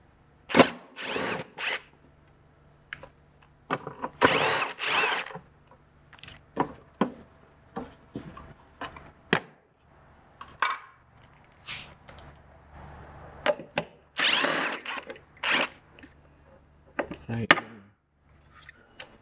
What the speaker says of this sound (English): with your 10mm socket, you're going to need to remove these 2 plastic bumper mounting brackets